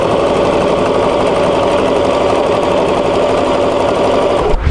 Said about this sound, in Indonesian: lalu kita jahit bagian sekelilingnya ya